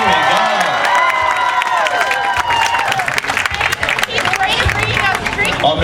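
A large outdoor crowd cheers and applauds steadily at a medieval fayre execution show, a loud continuous roar of claps and shouts with an announcer's voice over it.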